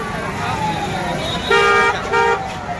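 Heavy traffic jam on the road to Lolesara Baiji Mela fair in Bemetara, with two loud car horn honks cutting through a steady motor rumble, a person talking in between.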